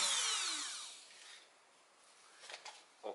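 A Dremel rotary tool grinds on a Ford front axle driveshaft, starting with a loud high whine that fades out. After a quiet gap come a few short, scraping bursts.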